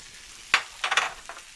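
Tomatoes tipped into a large pan of beans frying in olive oil, giving a soft thud and brief sizzling bursts as they land and are stirred, close and fairly quiet with no talk.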